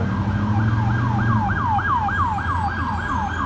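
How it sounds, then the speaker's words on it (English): A wailing emergency siren cycles up and down steadily over the low rumble of traffic, loud and close as it passes. "now this siren's gonna go by fucking up my video"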